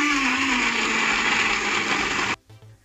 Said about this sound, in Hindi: अब हम ब्लेंड कर लेते हैं 2 मिनट के लिए।